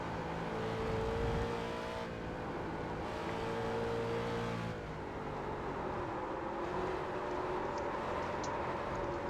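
Street stock race car at Rudskogen in the iRacing game: a loud engine drones and revs, pitch falling and rising across several gear shifts, with a brief tire squeal and no talking.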